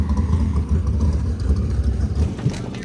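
A loud K24 all-motor car engine rumbles steadily and close by at a track day, a deep low throb that holds for about three seconds with slight rises in revs.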